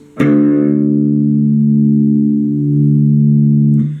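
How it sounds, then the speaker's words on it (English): A single low guitar string, the sixth string tuned down to D, is struck and left to ring, a deep sustained tone with a bright attack that holds steady for several seconds before being cut off. "we've got drop D, so you need to tune your 6th string down till it sounds like this."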